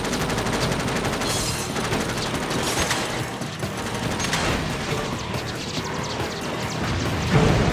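Rapid bursts of weapon fire from vehicles in the Jak X: Combat Racing combat racing game, loud and continuous across the whole stretch, layered with engine roar and impacts, with a heavier blast near the end.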